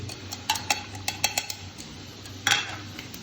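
A spoon scraping and clinking against a cooking pot while spices are stirred in for a tuna and vegetable spaghetti sauce, a run of close, irregular metallic taps followed by a louder clatter near the end.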